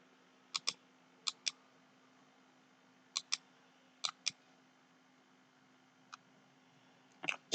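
Keystrokes on a computer keyboard while entering text into a spreadsheet, arriving in short bursts of two or three sharp clicks separated by pauses, close and fairly quiet over a faint steady hum.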